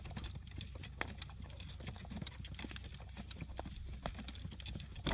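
Horse hooves clip-clopping at a steady walking rhythm while pulling a cart on a road, crisp repeated clops over a low background hum, fairly quiet with no voices.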